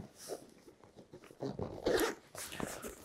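A two-way zipper closing a pocket on a 50-litre military expedition backpack, the pocket covered by a flap: a few short rasping zip strokes, close and fairly quiet, with no one talking.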